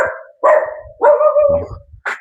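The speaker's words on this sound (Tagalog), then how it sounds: "Aso." A dog barks nearby, several loud, drawn-out barks in quick succession with short pauses between them.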